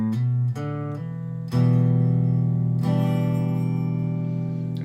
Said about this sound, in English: then you're going to actually strum the lower six strings